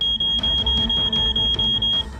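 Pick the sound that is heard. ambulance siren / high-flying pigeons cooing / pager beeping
pager beeping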